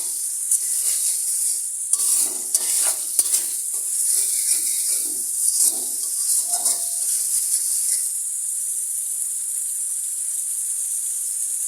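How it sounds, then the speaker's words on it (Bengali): Spice paste frying in oil for a Bangladeshi fish bhuna with taro stolons gives a bright, steady sizzle, with repeated spoon scrapes and stirring for the first several seconds before it settles into an even hiss. "আরেকটু নাড়াচাড়া করি, আমার মশলার তেলটা উপরে উঠে আসছে।"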